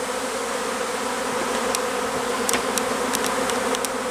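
A swarm of honeybees flies through the open air, making a dense, steady buzzing drone throughout with occasional brief clicks and no voices.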